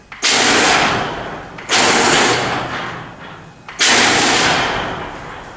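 Genie 7055 garage door opener, malfunctioning, giving three loud, harsh grinding bursts, each starting abruptly and fading over about two seconds, with no talking.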